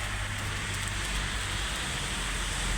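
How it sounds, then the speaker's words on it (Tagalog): Steady nighttime rain falls in Taif, Saudi Arabia, a continuous even hiss of drops on surfaces, moderately loud with a low rumble beneath and no talk. "Ulan dito ngayon."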